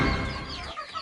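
A short cluck from a backyard chicken on a small farm, close and clear for about a second with no talk over it.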